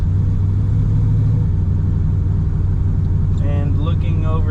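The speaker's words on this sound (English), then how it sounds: "it's getting into boost about 2500, just revving it" A twin-turbo Dodge Dakota R/T engine revs up close and loud, a heavy, steady low rumble throughout with some higher whistling tones near the end.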